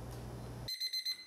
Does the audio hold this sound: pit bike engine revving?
no